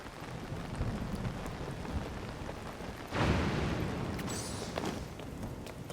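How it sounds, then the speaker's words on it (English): Rain pattering on a paraglider in Tears of the Kingdom, a continuous hiss of drops that swells into a louder burst partway through, then eases back to a steady patter. "the rain has a sound effect for when it hits the paraglider"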